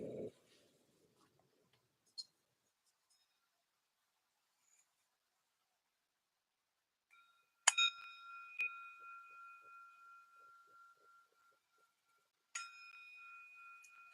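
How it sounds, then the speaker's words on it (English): A meditation bell is struck twice in a still, near-silent room; each strike rings bright and clear, then hums with a long, slowly fading tone. "I hope the bell is resonating."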